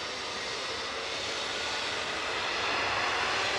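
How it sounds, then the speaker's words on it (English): A Boeing 787 Dreamliner jet taxiing at Manchester Airport: a steady, broadband engine roar at moderate distance that holds constant and swells slightly toward the end, with no voices. "That Dreamliner's turning at Victor Alpha, but I'm not going to count on it."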